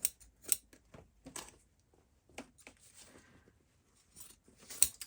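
Scissors snip through stitched fabric pieces, trimming them apart in a quiet room: a series of short, close, crisp cuts spaced irregularly with brief pauses between them.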